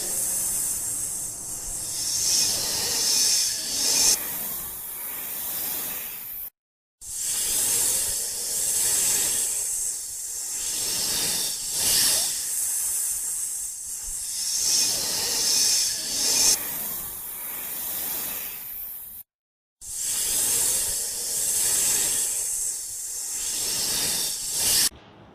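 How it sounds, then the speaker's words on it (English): A snake hisses in long, loud breathy bursts of several seconds each, separated by short silent gaps, with no voices over it. "This is a snake. How does snake sound? Listen to it."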